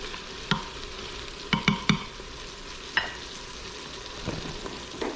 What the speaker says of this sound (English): Give them a little bit of a stir